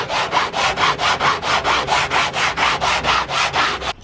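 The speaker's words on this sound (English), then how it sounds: "I'm just going to start by sanding it just like this." Wood is sanded by hand for a DIY wooden backdrop, the abrasive strokes rasping in a fast, even back-and-forth rhythm, about sixteen close, loud passes in a row.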